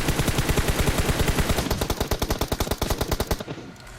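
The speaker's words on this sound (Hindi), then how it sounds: "अब पहला बंदा नॉक करते समय मैं डीपी की 5-6 गोली चलाता हूँ" Rapid bursts of DP machine gun fire in the mobile game PUBG Mobile, a loud, dense stream of rattling shots that continues for about three and a half seconds before cutting off abruptly.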